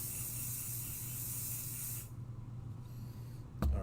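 A steady hiss of spray runs for about two seconds, then stops, followed by a brief click near the end.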